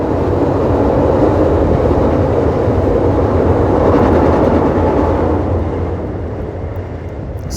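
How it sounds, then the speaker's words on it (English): A train passes nearby with a loud, continuous rumble and the rhythmic clatter of rail cars, steady for most of the time before easing slightly toward the end, with no talking. "I was letting the train pass"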